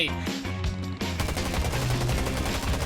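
Rapid automatic gunfire in the video game Garena Undawn, dense back-to-back loud bursts from the very start that become a sustained rattling barrage after about one second.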